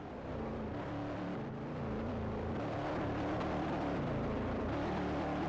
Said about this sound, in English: you can hear it in the engines.